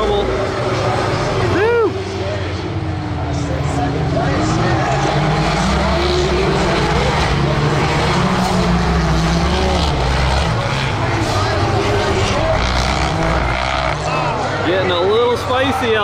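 Turbocharged side-by-side UTVs, a Can-Am X3 and Polaris RS1 turbos, race laps on a dirt track at the Freedom Factory, engines droning steadily with pitch swells as they pass, under near-constant excited commentary.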